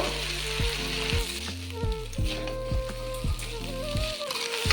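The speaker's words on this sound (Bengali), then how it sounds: "চাউমিন দিয়ে সব কিছুকে খুব ভালোভাবে মিশিয়ে নেব" Chicken chowmein noodles sizzle loudly in a hot pan while being tossed and mixed, with repeated metallic scraping and clanking of the spatula against the pan throughout.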